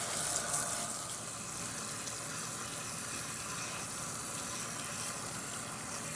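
Running water rinses hair color out of hair, a steady broadband wash of flowing water from start to finish with no talk.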